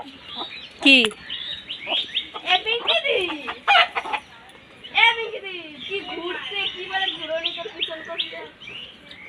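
A backyard hen clucks and squawks in bursts, close by and fairly loud, while people talk around it.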